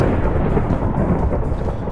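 Thunder during a storm in Minecraft gives a loud, steady, deep rumble that fills the clip without breaks.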